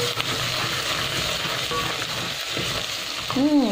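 Garlic and ginger frying in a pot while pilau is prepared make a steady, close sizzle with light stirring and a brief tonal squeak near the end.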